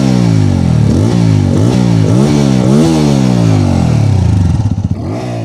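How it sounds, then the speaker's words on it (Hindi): A 2023 TVS Apache RTR 200 4V motorcycle with a dual-barrel exhaust revs loudly up close, its engine climbing and falling in several sharp throttle blips before settling back to idle, with no talking. "अब दोनों ही बाइकों की जो एग्जॉस्ट साउंड है वो भी मैं आप लोगों को यहाँ पर बारी बारी से सुना दूँ"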